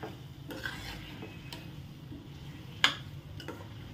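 A spoon stirs curry with turmeric in a pan, producing soft scraping strokes, a few light metallic taps, and one sharp clink against the rim over a faint sizzle.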